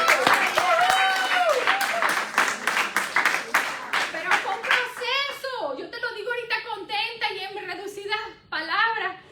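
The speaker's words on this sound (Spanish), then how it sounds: "¡Que aplaudamos al Señor!" A church congregation claps in unison at a Spanish-language service led by a pastor, sharp rhythmic claps at first, then shouting and singing voices take over as the clapping continues more loosely.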